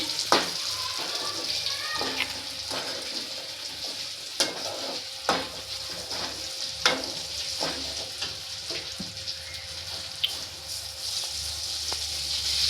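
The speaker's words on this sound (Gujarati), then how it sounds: "અહીંયા મરચાં ચડે છે તો ભરેલા મરચાંનું શાક બની રહ્યું છે" Stuffed green chillies cooking in a pan, a continuous sizzle of frying with several sharp clinks and scrapes of stirring spaced through it, close and steady at moderate level with no talk.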